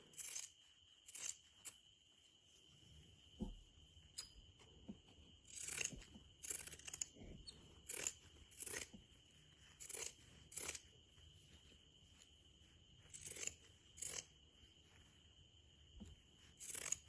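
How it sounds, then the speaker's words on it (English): Scissors cut fabric for a round skirt in a quiet room, giving a series of short, sharp snips in small clusters. Faint thumps and rustles come between them, and no one speaks. "Okay, I'll connect all these points together and cut this area."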